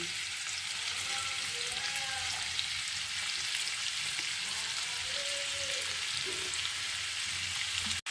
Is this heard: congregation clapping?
no